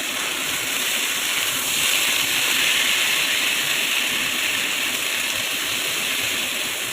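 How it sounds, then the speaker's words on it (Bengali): Radhuni seeds, bay leaf and dried red chilli sizzle in hot oil, a steady close hiss of frying spices with no voices over it. "এবার ফোড়ন দেবো রাঁধুনি, তেজপাতা, শুকনো লঙ্কা।"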